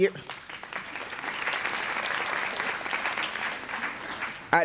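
Sustained audience applause at an annual general meeting, an even wash of clapping held for several seconds, moderately loud, with brief voices at the start and end.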